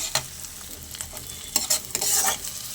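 Egg and brinjal cook in a pan as a spatula stirs through them after shahi garam masala powder goes in, giving irregular scraping strokes over a soft, close sizzle.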